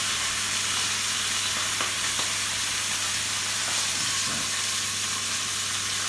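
Braised-style pork cheeks sear in a hot pan with a continuous, even sizzle and hiss that runs the whole way through, close up and with no talking.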